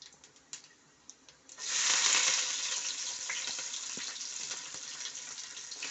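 Fenugreek, fennel seeds, mustard seeds, shallots and garlic dropped into hot oil for tempering a kara kuzhambu, bursting into a loud, steady sizzle after a few soft clicks, close and without speech.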